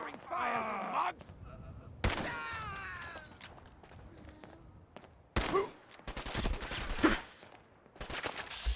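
Gunfire in the video game Fallout 4 bursts out in several loud, rapid volleys between stretches of grunting and shouted game dialogue, with heavy thuds and rattling shots clustered near the end.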